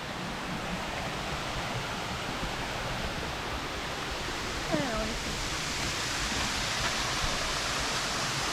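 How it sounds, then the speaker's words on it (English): A waterfall in Phuket pours steadily, a dense, constant rushing roar that fills the whole stretch at even loudness, with a brief faint tonal sound rising above it midway. "So we're back to waterfall number 2."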